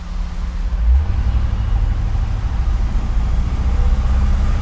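Steady low engine rumble of a 1960 Pontiac Laurentian driving, swelling briefly as it pulls away, then a continuous loud drone with road noise and no talk.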